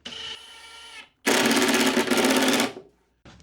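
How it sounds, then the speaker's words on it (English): A cordless driver sinks a screw into wood from the back of a router bit rack, one short whirring burst after a brief lead-in, ending with a quiet gap and a faint click. "I'm screwing this on from the back"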